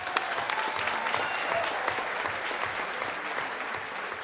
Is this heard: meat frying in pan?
no